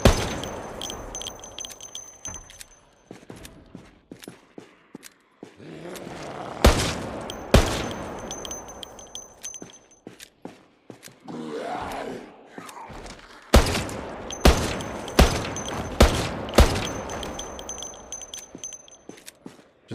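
AK rifle fire in Project Zomboid, repeated sharp gunshots in bursts and single cracks spread across the stretch, loud and close, with a tight cluster of rapid shots near the end and quieter gaps between volleys.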